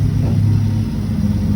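Gas burner under a pot of boiling beer wort, a low, steady roaring rumble with a faint bubbling texture, continuous and close for the whole short stretch.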